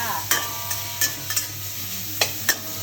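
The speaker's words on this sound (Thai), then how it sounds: "เสียงกระทะนี่แค่เสียงกระทะก็เต็มละ ก็ก็ผัดให้มันเข้ากัน" Metal utensil scraping and clanking in a hot iron wok of prawns and glass noodles over a steady sizzle, with several sharp stirring strikes at uneven intervals.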